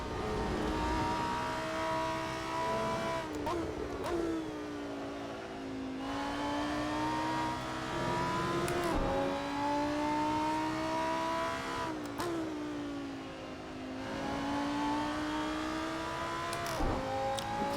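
Lamborghini Super Trofeo race car engines in a sim racing game at Donington Park rev and whine continuously, rising through gears and dropping on shifts, loud and close with other cars nearby.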